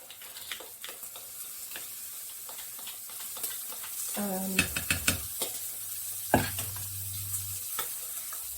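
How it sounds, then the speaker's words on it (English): Frozen peas and sweet corn sizzle as they are added to a hot curry pan, a steady frying hiss with a few stirring clacks and scrapes midway, no talk. "So in goes the peas and sweet corn."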